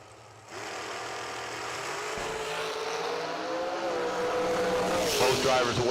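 Drag racing cars launch off the line at a drag strip, a loud, sustained engine roar building steadily with rising, sweeping tones near the end, close and continuous.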